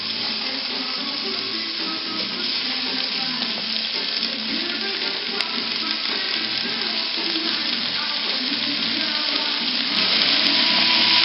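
Pieces of lamb sizzle steadily in a pan with softened onion for Salentine-style lamb in sauce, a continuous crackling fry with occasional stirring, close and even throughout.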